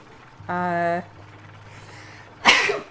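A single sharp sneeze bursts out close by near the end, after a brief hummed vocal sound; otherwise quiet.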